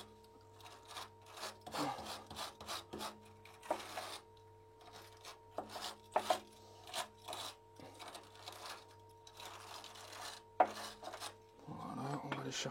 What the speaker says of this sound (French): la brosse métallique pour enlever tous les derniers morceaux